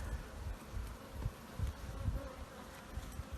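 Bees buzzing in an opened beehive during a January hive inspection, a dense continuous hum with pulsing low swells, close and fairly quiet, with no speech.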